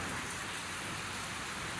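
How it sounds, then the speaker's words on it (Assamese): Steady rain pouring down outside a house, a dense even hiss of drops on surfaces throughout the brief stretch, with no voices. "একদম ধুনীয়াকৈ বৰষুণ দি আছে"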